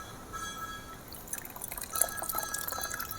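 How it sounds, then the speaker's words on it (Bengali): Water from fresh chhena strained through cloth into a bowl drips and trickles faintly, soft irregular patters with a few clearer drops near the end, alone and quiet. "এবারে এই ছানাটা আমি একটা পাত্রে তার উপরে কাপড় দিয়ে ছেঁকে নেব।"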